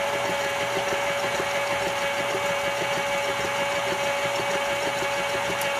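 An electric mixer beats cupcake batter at high speed with a constant close whirring hum and a rapid, slightly rattling pulse, running steadily with no talking.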